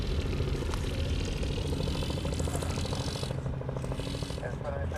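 Virgin America airliner, Flight 222 bound for Seattle, departing Honolulu airport: a steady, loud jet roar holds throughout with a broad rumbling low end, no distinct onset, and possible faint voices mixed beneath.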